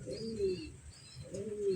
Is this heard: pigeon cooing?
yes